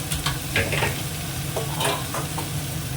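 Spices frying and being stirred in oil in a pan for a Bengali home-cooked dish, with cumin powder, chilli powder and a little sugar: steady close sizzle with a few scraping stirs of the spoon, no voices.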